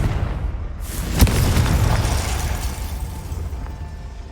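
Confringo blasting curse in Hogwarts Legacy, one sharp close explosive crack followed by a deep rumbling boom that slowly dies away.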